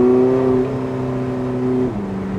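Porsche 918 Spyder engine pulling hard beneath a bridge, a loud steady drone with rising harmonics and a brief drop near the end as it shifts, close and alone without talk.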